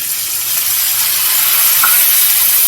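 Capsicum core and chopped tomatoes added to frying onions sizzle in a pan as a loud, steady hiss without break, close and alone.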